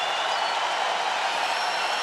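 A steady, dense crowd roar fills an arena at a UFC fight between Donald Cerrone and Iaquinta, loud and sustained without clear breaks.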